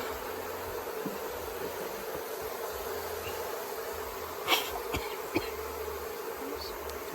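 Honey bees from a nuc package swarm in a steady, dense buzz while the colony is installed into a hive, a constant close drone with a couple of brief clicks and knocks partway through.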